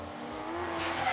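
Drift cars slide through a street-league drift competition chase run, a steady roar of engines with rising tire squeal building over about a second, loud and close.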